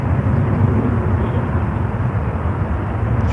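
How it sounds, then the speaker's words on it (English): An airplane makes a rolling takeoff at night, heard as a distant, steady low engine roar that stays constant throughout without other sounds. "Yeah, it's going for a rolling takeoff."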